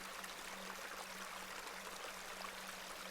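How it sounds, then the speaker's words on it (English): A beck's water tumbling and falling in Hob's Barrow, heard as a steady, soft rushing stream with a faint constant hum beneath and no talk over it. "You see this beck before you. Look at the water. See how it tumbles and falls."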